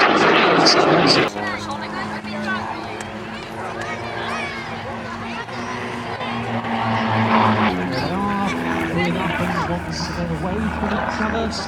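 A jet aircraft, the armed derivative of the Jet Provost, roars through a display at the East Fortune Airshow 2011 in Scotland. A steady, loud engine rush sweeps past, with a louder burst at the start and a public-address announcer talking over it.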